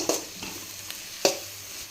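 Stirring onion and chilli powder in a frying pan for a drumstick leaves egg fry, with a soft sizzle and a few sharp scraping strokes of a spoon against the pan spread over two seconds.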